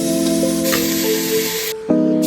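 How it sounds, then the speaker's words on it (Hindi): Vegetables being cooked for dinner in a home kitchen pan give a loud, steady sizzle and hiss that briefly drops away before surging back. "मैं जो है डिनर के लिए सब्जी बना रही"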